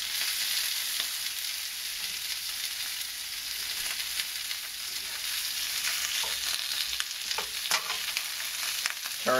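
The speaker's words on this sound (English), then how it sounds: "We're cooking on high heat just to get a nice brown side on every piece of meat." Meat pieces searing in an oiled pan over high heat for Korean gamjatang, with a constant loud sizzle and occasional sharper crackles and scraping as the pieces are turned.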